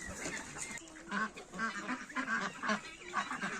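Muscovy ducks of a heavy German line gather in a poultry yard for evening feeding, giving soft, repeated honking and hissing calls at moderate distance over a low outdoor background.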